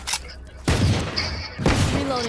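Two heavy bursts of video-game gunfire boom out, each a dense blast with lingering rumble, amid electronic game sounds.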